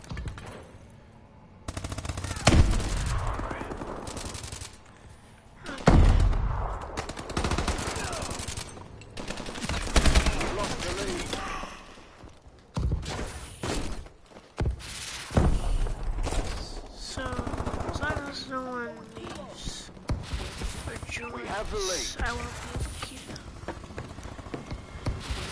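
Gunfire in a PS4 shooter video game crackles in bursts of rapid automatic fire and single loud shots, uneven and moderately loud, with some speech and game sounds mixed in.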